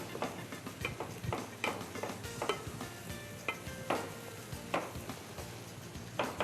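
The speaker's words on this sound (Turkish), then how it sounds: "Ve soğanla beraber kavurmaya devam ediyoruz tabii ki" Green beans and onions sizzle and fry in a pan, with repeated stirring scrapes and clinks at an uneven rhythm, close by, with no talking.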